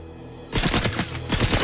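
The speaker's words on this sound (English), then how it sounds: "Get down! He's shooting!" Loud rapid bursts of automatic gunfire in a 007 video game break out suddenly after a quiet moment, firing as a dense volley.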